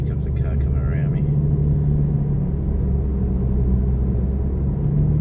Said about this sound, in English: here comes a car coming around me